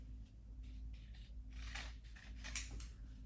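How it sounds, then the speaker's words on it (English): Scissors snip through kinesiology tape in several quick, quiet cuts, close up with no talking. "that's how long I know to cut the tape"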